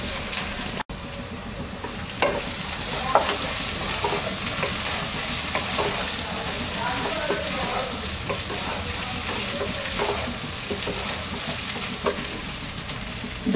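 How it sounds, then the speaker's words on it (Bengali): Rice and vegetables stir-fried in a hot pan, with a steady dense sizzle and repeated scraping stirs of the spatula running throughout, close and alone. "এবার সবজির সাথে চালটাকে আমরা 2-3 মিনিট কষিয়ে নেব।"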